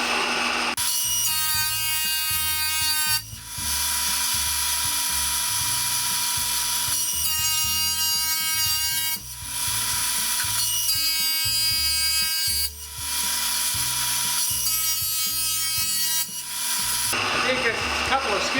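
An electric power planer with old, dull, nicked blades skims pallet boards in several loud, whining passes of a few seconds each, separated by brief pauses as the machine winds down and restarts.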